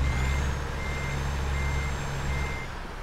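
Truck reversing alarm in American Truck Simulator, a steady repeating high beep over a low rumbling diesel engine idle, close and continuous throughout.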